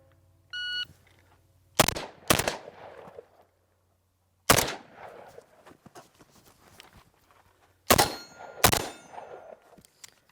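Rifle gunfire on a timed shooting course comparing an AR and an AK: several loud, sharp shots close by, fired in pairs and singles with pauses between, after a short electronic timer beep.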